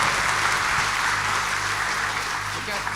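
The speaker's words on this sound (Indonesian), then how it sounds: "Gue undang kasih tepuk tangan yang paling meriah ke bosnya Holy Wings Group" Event audience applauding for the Holy Wings Group boss, dense continuous clapping at full volume that holds steady for the whole stretch.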